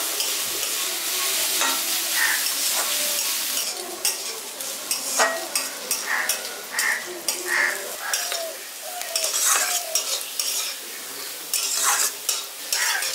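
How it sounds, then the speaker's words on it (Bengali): Thinly cut beetroot and carrot for a village-style vegetable chop fry in a pan, with a continuous sizzle broken by repeated scraping and clattering stirs of a utensil against the metal. "এবার এটাকে আমি হালকা করে একটু ভাজা ভাজা করে নিচ্ছি।"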